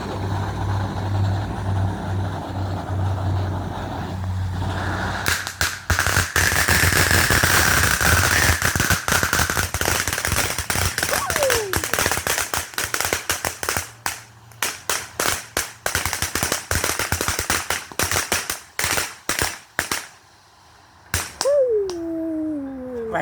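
Loud consumer fireworks go off at a Fourth of July backyard show. Dense, rapid crackling bursts and sharp bangs fill most of the stretch, then thin to scattered pops. A couple of rising whistles sound near the end, and no one talks.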